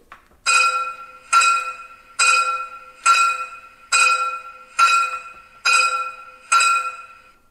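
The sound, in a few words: locomotive bell ringing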